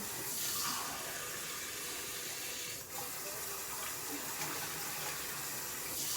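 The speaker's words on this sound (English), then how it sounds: "There is probably going to be about 5 to 6 cups of water added." Several cups of water poured into a pot for homemade chicken and dumplings, a steady splashing, running-water sound that continues at an even level throughout, near and moderately loud with no talking.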